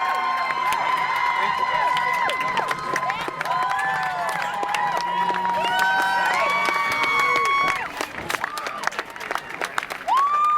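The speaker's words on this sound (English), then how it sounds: "They were waving it, people were yelling, they were clapping the police officers, clapping the SWAT teams." Crowd at a spontaneous street celebration after a police manhunt lockdown in Watertown, cheering, whistling and clapping for police officers and SWAT teams, a dense continuous roar of yells and applause with scattered shouts and sharp whistles.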